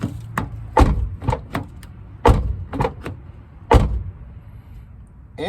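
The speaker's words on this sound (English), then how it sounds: "make sure the door opens and closes" Several sharp knocks and thumps as a Toyota Matrix car door is opened and shut, with a few louder slams spaced unevenly over quiet background.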